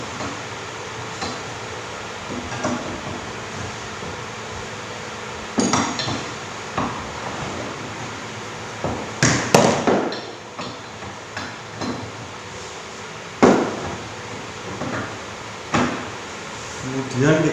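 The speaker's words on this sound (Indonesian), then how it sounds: "Kita kencangkan pengikatnya." Metal clanks and knocks as a fastener on a hydraulic rack-and-pinion power steering assembly is tightened, irregular close taps and tool clunks over a steady background hum with faint talk.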